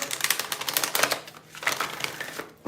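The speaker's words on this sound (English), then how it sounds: "Wow, one more shuffle." Cards riffle and flutter in quick crackling bursts, a close, papery shuffling sound with short pauses between runs.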